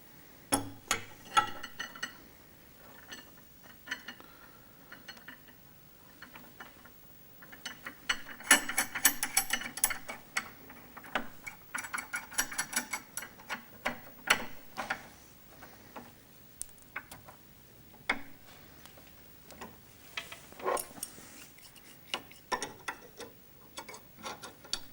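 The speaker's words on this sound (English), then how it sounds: "we're going to have to put these shives under pressure with help of this cork pressure" A cork press is tightened by hand over stacked cork rings (shives) on a fishing rod blank, giving a run of dry ratcheting clicks and mechanical creaks in uneven bursts, close and fairly quiet, with no one talking.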